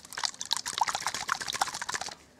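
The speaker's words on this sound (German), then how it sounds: "Da kommt nur noch Wasser raus." A nearly empty can of Balea shaving foam sputters and spits out only watery liquid in a close, irregular run of small bursts and gurgles lasting a couple of seconds, with no voice over it.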